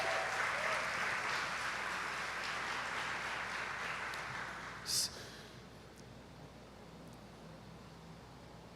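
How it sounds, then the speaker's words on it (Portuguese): A church congregation applauds during a worship service, a steady, dense wash of clapping that gradually fades out about halfway through into a quiet room. "Vamos aplaudir o Senhor pela vida dos nossos irmãos?"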